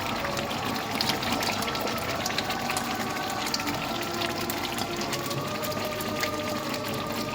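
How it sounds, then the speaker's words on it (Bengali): Fresh cream pours into a pan of creamy chicken curry, a continuous liquid gush and splashing that stays close and even throughout, with no voices. "ফ্রেশ ক্রিম, দেখো ফ্রেশ ক্রিম দিয়ে দেবো"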